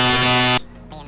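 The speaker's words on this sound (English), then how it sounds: "here I've got the machine running and popping the holes in this part here. It's real easy work with the CNC router." A CNC router machining holes in a part gives a loud, steady electric buzz that cuts off abruptly, followed by quieter shop noise and a brief faint tone.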